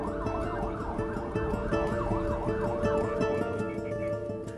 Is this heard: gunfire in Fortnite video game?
no